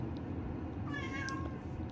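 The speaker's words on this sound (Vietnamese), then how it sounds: "Con mèo nó kêu" A cat gives a single drawn-out meow in the middle, clear above a steady low room hum in a home kitchen, with no talking.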